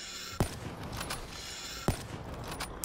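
Gunfire in the Black Ops 3 Zombies video game: two sharp, loud shots about a second and a half apart over a steady background hum.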